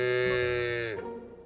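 A cow wakes in a barn and lets out one long, loud, close moo that gradually drops in pitch before fading.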